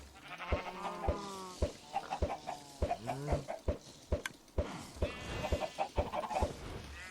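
Minecraft chickens clucking in short repeated calls, moderately close and fairly quiet, mixed with clicking game sounds and no talk.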